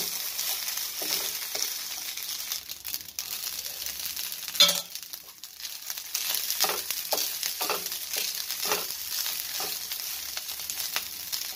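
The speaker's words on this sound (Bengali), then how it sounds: "আমি এতটুকু ভেজে দেখাচ্ছি" A small amount of batter fries in a nonstick pan: a soft, continuous sizzle with scattered scraping stirs and one sharp clink partway through. No one speaks.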